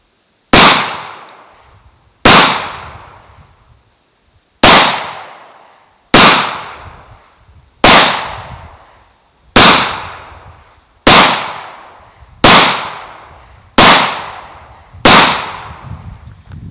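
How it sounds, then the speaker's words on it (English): A Rock Island Armory 1911 pistol chambered in 22TCM fires ten loud, sharp shots at a steady pace of about one every second and a half, each crack followed by a short decaying echo. "this time we're gonna shoot it with the 22TCM to see what kind of accuracy we can get with this one"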